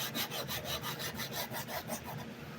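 Chalk is ground into a drawing board in quick back-and-forth rubbing strokes, a rhythmic scratchy rasp repeating about a dozen times, close and moderately loud with no talking.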